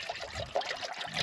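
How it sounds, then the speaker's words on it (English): Water is poured into a pot in freezing conditions, a close, uneven gurgle and splash lasting a moment. "pour this water into here"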